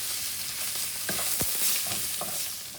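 A spoon stirs mashed potato with coriander masala in a pan for stuffed capsicum, giving soft scrapes and a few sharp clinks over a steady low sizzle, close and continuous with no talk.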